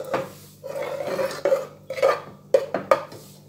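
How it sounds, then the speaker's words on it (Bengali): Spoon stirring water inside a freshly rinsed mixer-grinder jar, a series of sharp metallic clinks and scrapes in an irregular rhythm, close and clear with no talking. "মিক্সির পাত্রটা ধুয়ে একটু জল দিয়ে দিলাম। এবার একটু নেড়ে নিচ্ছি।"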